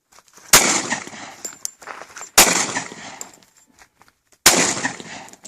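Three sharp Glock 45 pistol shots crack at close range, evenly spaced about two seconds apart, each followed by a short echoing tail.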